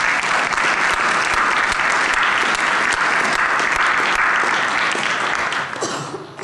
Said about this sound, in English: And they deserve another round of applause.